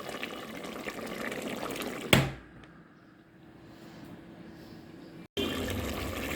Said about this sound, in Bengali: আমি এখন অল্প করে ঝোলের পানি দিব।